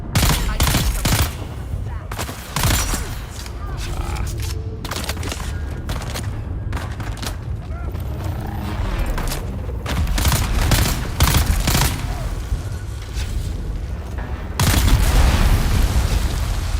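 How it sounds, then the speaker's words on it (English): Dense bursts of gunfire and booming explosions from the video game Dune Awakening crackle loudly and continuously, with rapid repeated shots and heavier blasts toward the end. "I feel like the explosions are like they're like taking a huge radius."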